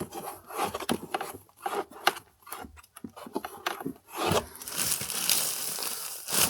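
Polyfill is rubbed, scrunched and pushed into a wooden speaker enclosure, giving close, irregular scratchy rustles and brief thumps.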